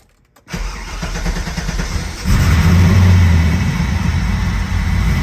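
An LS V8 swapped into a Mazda RX-7 FD cranks briefly, then catches and fires up, settling into a loud, steady, rumbling idle close by with no talking.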